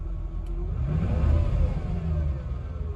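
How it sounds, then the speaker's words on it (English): Mercedes M119 V8 engine idling with a persistent tick after a throttle body rebuild, a close, steady low rumble with a slight swell in the middle, heard alone. "it's still got that tick."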